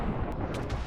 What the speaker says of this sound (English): the explosion is just so big